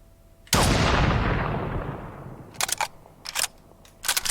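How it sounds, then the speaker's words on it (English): A single booming shot from a Beretta .50 cal rifle in the Triton VR shooter, loud and sharp with a long decaying tail, followed by several short metallic clacks of the weapon being handled. "the Beretta 50 Cal"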